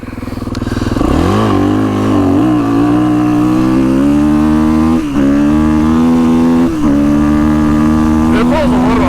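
Kawasaki KX450X dirt bike with DFI connectors accelerating in second gear on trail terrain, a loud close engine rising steadily in pitch with brief dips between pulls.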